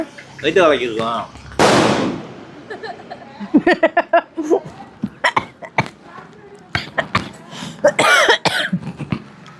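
Firecrackers burst during a rainy Diwali celebration at home, one sharp loud bang followed by a string of smaller crackling pops, with people talking and laughing around them.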